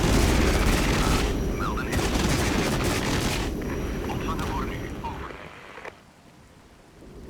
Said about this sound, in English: More enemy aircraft are coming in